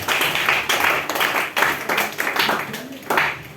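Church congregation at a worship service clapping in acclaim, a dense, continuous wash of many hands in uneven bursts, with voices mixed in beneath the applause.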